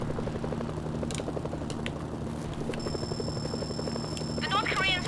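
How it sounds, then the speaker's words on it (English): Helicopters close in during a war video game with North Korean forces holding air superiority, a steady low rotor thrum pulsing under battle noise and voices, growing slightly louder toward the end. "Incoming helicopters."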